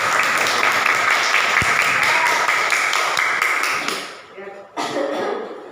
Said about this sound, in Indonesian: Tepuk tangan buat Yopi